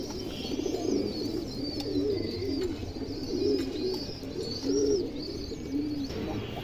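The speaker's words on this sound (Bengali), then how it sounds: "খুবই সুন্দর একটা কবুতর" Pigeons coo repeatedly in soft, rolling phrases, several birds close by with a faint chirp and a steady background hum.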